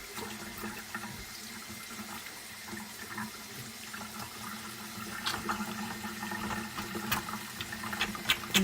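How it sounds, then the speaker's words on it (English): Tap water running into a sink during handwashing, a steady close splashing stream that grows a little louder and busier toward the end, with small clinks and no talking. "I'm going to put this in the sink and wash my hands"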